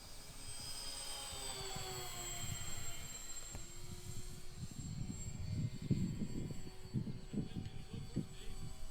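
A Dynam C-47 Skytrain twin-engine RC model plane flying on a 3S battery pack, its electric motors whining steadily at a distance, a thin high tone over rumbling wind and outdoor noise, with no talk.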